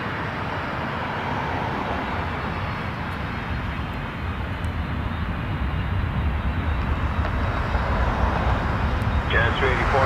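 An airliner lining up on runway 23 at Toronto Pearson, its engines giving a steady, loud broadband roar that swells slightly over the ten seconds, with no talk.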